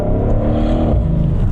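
Tuned 750-horsepower Mercedes S63 AMG in sport mode pulling hard at half throttle, a loud, steady engine roar building as it accelerates, close up from inside the cabin.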